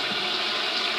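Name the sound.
rinsing a medical glove under running tap water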